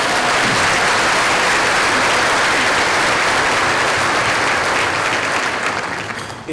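A crowd at a school district keynote claps in sustained, dense applause that holds strong before tapering off at the very end.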